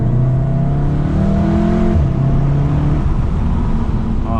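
A Volkswagen Golf R in race mode accelerates on a winding road in Japan, heard from inside the cabin as a steady, loud engine drone whose tone climbs and shifts through the revs with no talking.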